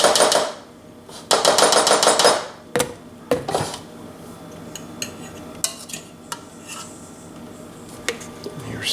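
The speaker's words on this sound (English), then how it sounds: "we're going to take 2 tablespoons of mayonnaise" Tablespoons of mayonnaise scooped and dropped into a bowl in a home kitchen, with bursts of metal spoon clinking and scraping against the bowl, then soft, sparse taps and knocks, no talking.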